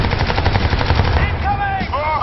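Sustained loud automatic gunfire in the sci-fi shooter Crysis 2, a rapid stream of shots throughout, joined near the end by whooshing, sweeping alien or weapon effects.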